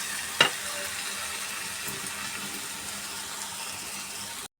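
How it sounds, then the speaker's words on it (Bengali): Potatoes, salt and fried spices being sautéed in a karahi give a steady, close sizzle, with a sharp clank of utensil against pan near the start and no voices. "ভালো করে কষানো হচ্ছে"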